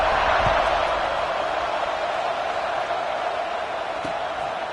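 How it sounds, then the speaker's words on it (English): A stadium crowd at a football game hums just after a touchdown, a steady, dense wash of distant murmur and cheering that holds at an even level throughout. "this crowd is buzzing after that last score"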